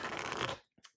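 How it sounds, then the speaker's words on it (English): A deck of oracle cards gets a quick riffling shuffle up close, a brief flutter ending in a couple of soft taps. "Okay, so I have shuffled the deck"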